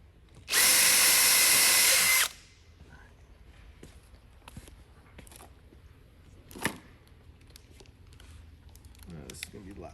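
A power drill whirs loudly in one burst of about two seconds while driving screws into a desk during assembly, followed by quiet handling clicks, taps and shuffling in a room.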